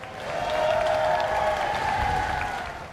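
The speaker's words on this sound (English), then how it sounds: "The crowd respond, and there are shouts of "Shame on you."" A crowd in York shouts angry disapproval after eggs are thrown at the King and Queen Consort. The burst of massed voices and clamour is loud and close, swelling and fading within a few seconds.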